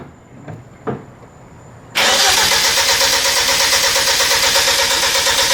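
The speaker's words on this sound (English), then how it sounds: "attempt number 16 on trying to start this engine" A rebuilt Genesis Coupe engine cranks with a few brief bursts, then catches and roars into a loud, steady run close by, holding a rough, throbbing idle to the end.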